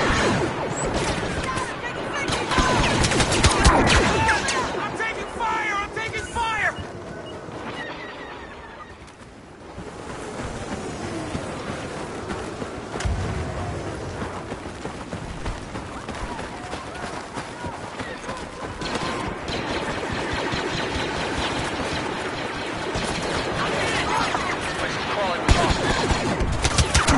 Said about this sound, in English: I'm taking fire! I'm taking fire!